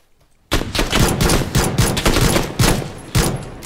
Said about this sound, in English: Shots. That's me. Getting shot at.